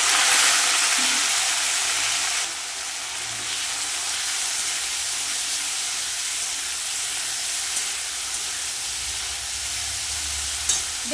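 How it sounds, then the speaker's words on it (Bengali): Okra and potato sizzle steadily in hot oil in a kadai, a continuous close frying hiss with occasional soft stirring, no voices. "তেল গরম হয়ে গেছে, ঢেঁড়স আর আলুটা দিয়ে দেবো।"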